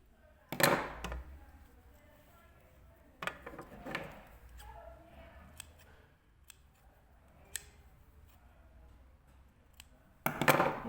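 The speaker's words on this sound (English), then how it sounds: "Let's trim these threads." Scissors trim loose threads on a puff sleeve cuff sample, giving a few sharp, close snips and clicks spread across a quiet background, with louder bursts at the start and end.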